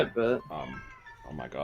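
Pet cat meowing twice in quick succession, close and fairly loud, with someone talking over and around the calls.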